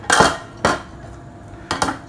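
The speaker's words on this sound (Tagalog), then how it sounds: "maghugas lang tayo dito ng mga kalat at kaldero nila" Pots and dishes being washed by hand in a home kitchen, three sharp metallic clanks of cookware knocking together at irregular intervals, close and fairly loud with quiet rinsing between.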